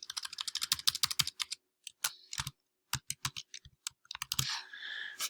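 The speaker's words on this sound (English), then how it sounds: "If I can get that typed in here." Quick, crisp keystrokes tapped on a computer keyboard nearby, coming in bursts with brief pauses and a short run of softer clicks at the end.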